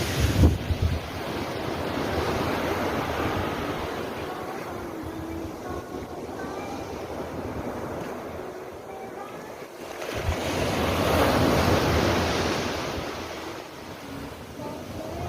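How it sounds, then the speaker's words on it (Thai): Sea waves wash onto the beach at Khao Phlai Dam in Sichon, Nakhon Si Thammarat, making a continuous rushing surf that swells and fades under heavy wind buffeting on the microphone. "ชายหาดเข้าพลายดำอยู่ที่เข้าพลายดำรีสอร์ทนะครับ วิวทะเลนะครับ"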